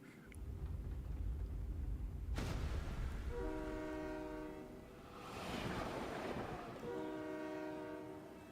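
A train cannon activating in the Blue Archive game: a low rumbling mechanical roar gives way to a sharp hit, then repeated horn-like blasts with rolling rail clatter, loud and alone without speech.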